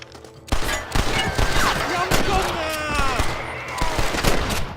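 Rapid gunfire crackles in the Western video game Red Dead Redemption on Xbox 360, a dense fusillade of loud overlapping shots ringing out for several seconds.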